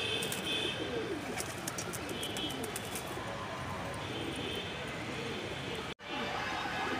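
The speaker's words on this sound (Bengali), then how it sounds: "মাশাআল্লাহ কবুতর" Pigeons in a breeder's collection of show birds, including silver and fighter types, coo softly amid a steady bed of outdoor ambient noise and faint bird chatter, with a brief dropout near the end.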